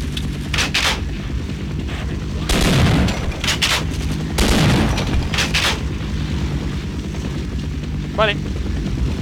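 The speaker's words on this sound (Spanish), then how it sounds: "Un cañonazo." Cannon fire in the video game Half-Life: two heavy booming blasts land a couple of seconds apart, with sharper shots and rumbling game noise around them.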